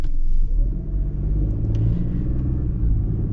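A 2025 Ford Bronco Sport Outer Banks with a small turbocharged 3-cylinder engine pulls under acceleration, a steady, loud low rumble that holds throughout with no speech over it.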